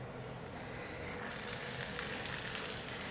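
Two medium onions, finely sliced, sizzle in hot oil while frying for a cabbage fry, a steady close crackle that jumps louder and brighter about a third of the way in as the onions hit the pan.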